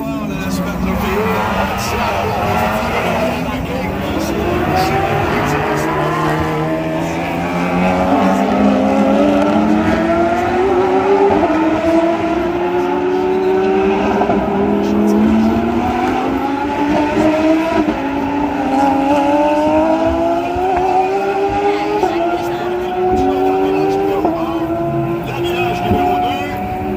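Porsche race car at speed on a street circuit during a Super Trophy race, engine pitch rising and falling steadily with tires working the track, loud and sustained with a commentator talking over it.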